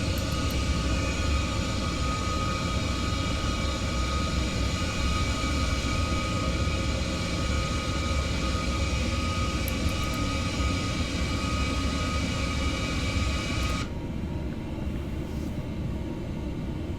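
Steady, loud broadband roar of an MD-11 airliner in cruise from a flight simulator game, continuous engine and airflow drone throughout, with the high hiss dropping away near the end.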